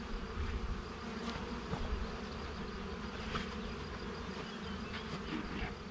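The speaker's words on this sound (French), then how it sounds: "Allez, petites abeilles, retournez au travail." Dense, steady buzzing of many honeybees close by at a hive, a continuous droning hum with individual bees passing near now and then.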